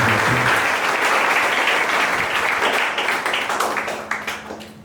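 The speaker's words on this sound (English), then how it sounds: "give a big clap for all our interested student council" A crowd at a school investiture ceremony claps steadily for several seconds, the applause gradually thinning and fading toward the end.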